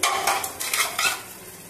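Salt and chili being stirred into gongura chicken in a pan, quick close scraping strokes with a soft sizzle underneath, fading after a second, no voices.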